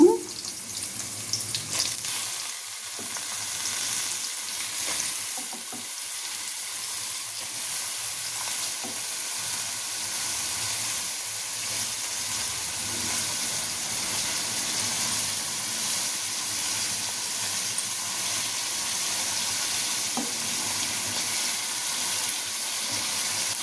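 Eggplant pieces frying with onions in a pan give a steady, loud sizzle and hiss with occasional stirring scrapes, continuous and close, without any talking.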